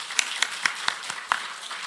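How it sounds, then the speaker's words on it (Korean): A church congregation at a Sunday evening service claps in a sparse, loosely rhythmic run of distinct hand claps, a handful of people rather than a full roar, in a fairly quiet hall. "박수."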